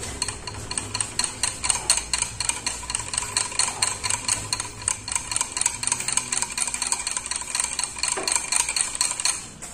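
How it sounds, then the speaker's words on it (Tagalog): Cake batter for a chocolate marble cake bread being stirred in a bowl, a steady rhythmic scraping and clinking of utensil against the bowl, close and continuous with no talk. "haluin lang natin to para maging chocolate"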